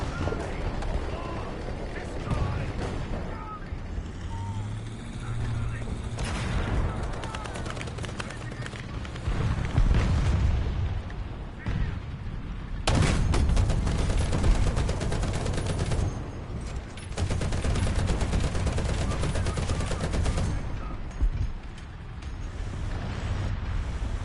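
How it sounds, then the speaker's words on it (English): Mortar strike and gunfire in War Thunder: sustained bursts of gunfire and heavy impacts come in waves, loud and dense, with a low rumbling bed and a voice talking intermittently over the battle. "I think I'm gonna go ahead and drop a mortar on that dude I was shooting at before."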